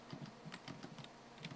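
Computer keyboard keys clatter in quick, irregular bursts of close, crisp clicks while someone plays a platform game on the keyboard, with no talking.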